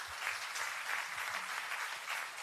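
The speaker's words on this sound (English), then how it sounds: "let us give a thundering applause to Comrade Justice" Audience applause at a bank staff unions' women's convention in India, steady dense clapping from a large hall crowd filling the whole stretch with slight swells, no voices on top.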